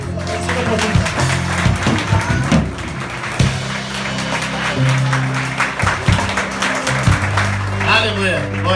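Church congregation applauds during an evening worship service, clapping mixed with loud music or amplified voices and sharp taps, the hand-claps partly buried under the other sound.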